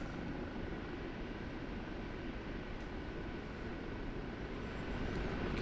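An OH-58D Kiowa Warrior helicopter's engine and rotor in the DCS flight game, a steady broadband turbine roar that holds evenly throughout, with no talk.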